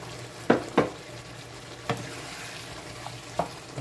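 Shallot, pepper, onion and celery stirred in a pot: steady sizzling, broken by a few sharp scrapes and knocks of the spoon, close and moderately loud with no talking.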